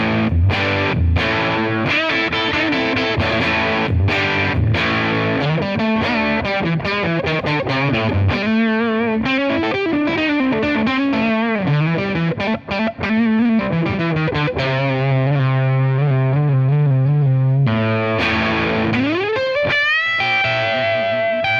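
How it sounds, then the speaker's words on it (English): Electric guitar through a Tate FX Sirens Scream RAT-style distortion pedal with the gain at three quarters, a throaty, punchy overdriven riff of fast picked notes, bends and held chords, loud and steady for about twenty seconds with no voices. "So that kind of is like a throaty, punchy overdrive."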